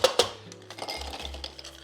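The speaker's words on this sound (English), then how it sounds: "Let's fill a glass with ice." Ice cubes clatter into a glass while a rye and passionfruit cocktail is being made, a couple of sharp clinks up front followed by softer rattling and settling, close and fairly quiet over a low background hum.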